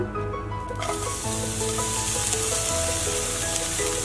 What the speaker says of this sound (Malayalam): ഇനി നമുക്ക് ഇതിലോട്ട് നമ്മൾ ചതച്ച് വെച്ച വെളുത്തുള്ളിയും അതുപോലെ തന്നെ ചുവന്നുള്ളിയും ചേർത്ത് കൊടുക്കാം.